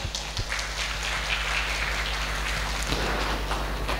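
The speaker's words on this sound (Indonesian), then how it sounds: "Tepuk tangan." Audience applause at the opening of a Qur'an recitation ceremony, dense clapping heard throughout over a steady low mains hum, fairly loud and with no speech on top.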